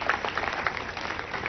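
An audience claps steadily at an award ceremony in Karachi, a dense, even wash of many hands with no pauses, close and fairly loud.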